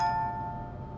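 Alert bell from trading chart software: a single clear chime struck at the start and ringing out as it fades over a second, alone in a quiet room.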